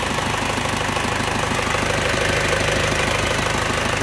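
A freshly rebuilt engine with new cylinder liners, pistons and rings, bearings, seals and gaskets idles close by, running steadily with a rapid, even knock-like rhythm throughout and no voices.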